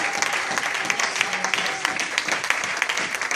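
An audience at a church youth conference in a hotel hall applauds loudly, a dense, continuous wash of clapping with some cheering mixed in, close and full for the whole few seconds, with voices faintly underneath.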